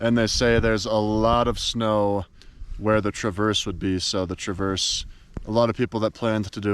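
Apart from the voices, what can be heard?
None of the usual background noises is heard.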